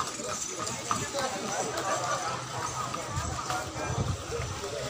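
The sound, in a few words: horse hooves clip-clopping pulling a cidomo cart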